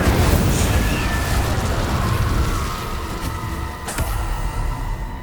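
An Incendio fire spell in Hogwarts Legacy on PS5 roars as a dense, loud, sustained whoosh of flame for several seconds, broken by a sharp crack partway through.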